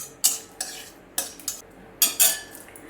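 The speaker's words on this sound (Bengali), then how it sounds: "আমি একটু দিলাম একটু ফোড়নটা একটু নেড়ে নিচ্ছি" A spice tempering with dried red chillies is stirred in a pan for shukto dal: several separate, close scraping strokes of a utensil against the pan, with a faint sizzle between them and no talking.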